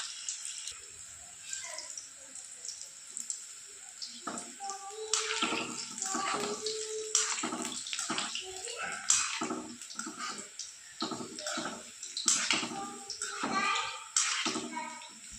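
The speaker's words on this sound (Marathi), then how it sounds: "आपल्याला मीडियम फ्लेमवरती सर्व गोळे असे तळून घ्यायचे आहे" Fenugreek kofta balls deep-frying in hot oil over a medium flame, a steady bubbling sizzle with scattered crackles and pops that swell and fade irregularly.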